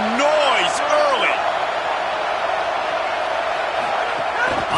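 Football stadium crowd roars steadily in a broad, continuous wash of noise with scattered whoops, heard under a commentator's voice.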